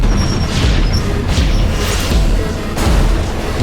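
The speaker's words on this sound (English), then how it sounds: "The train smashed through the city wall, setting off a massive explosion" A train smashes through a city wall in a film, heavy booming crashes and rumbling explosion blasts following one another loudly, with a sharp smash near the end and a dense roar throughout.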